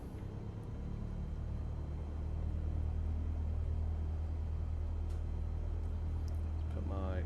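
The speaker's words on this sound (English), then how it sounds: "Let's put a quick bit of rev in." Cessna 172 piston engine in Microsoft Flight Simulator, a steady low droning rumble that swells slightly as power comes up while taxiing, continuous and fairly close throughout.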